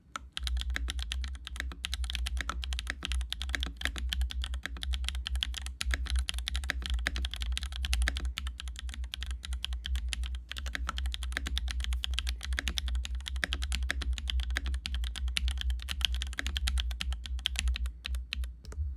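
Typing on a QK100 keyboard with Gateron CM switches, GMK Jamon keycaps and a carbon fiber plate gives steady, fast, clacky keystrokes, close and alone, with a low background hum underneath.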